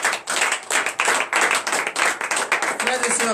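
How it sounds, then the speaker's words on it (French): A church congregation at a morning prayer service claps in praise, a brisk, rhythmic run of hand claps from many people, fairly close and continuous, with voices mixed in beneath the clapping. "Donnez l'acclamation à l'Éternel."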